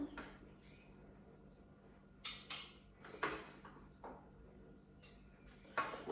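A spoon picked out from among kitchen utensils, a few scattered metallic clinks and light rattles at close range over a quiet room hum.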